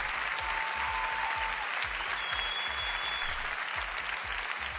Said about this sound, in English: A big cheer for coming back after a little break.